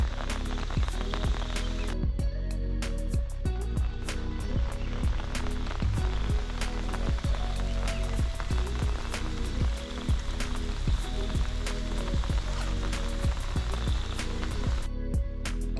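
Rain falls steadily on a hill road at Ponmudi, a dense, continuous patter of drops that holds at an even loudness for the whole stretch, with no talking.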